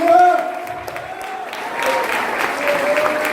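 A church congregation applauds during an Easter service, with broadband clapping rising behind a sustained sung or spoken tone and swelling through the second half.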